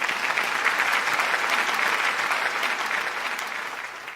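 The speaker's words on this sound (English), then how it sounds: "So will you join me in giving a round of applause?" An audience gives a sustained round of applause at an endorsement presentation for international student centres, dense and fairly loud clapping that eases off slightly toward the end.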